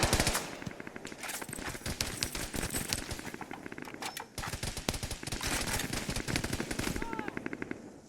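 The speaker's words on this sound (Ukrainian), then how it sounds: "звідти постріл був" Rapid bursts of automatic gunfire rattle almost continuously, loud and close, with a short pause midway before the firing resumes.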